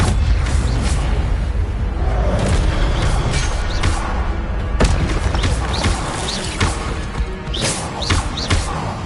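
An Incendio fire spell effect in a wizarding game bursts with loud booming whooshes and crackling impacts that roll on continuously, with sharp flares throughout.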